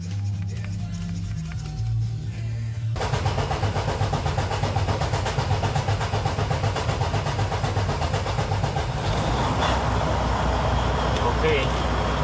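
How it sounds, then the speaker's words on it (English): A quiet engine cranks, then the diesel engine of a Freightliner Cascadia truck catches at about three seconds and settles into a loud, steady running rumble. "Okay, the engine is running now."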